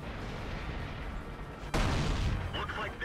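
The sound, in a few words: M48A1 tank cannon shot in World of Tanks video game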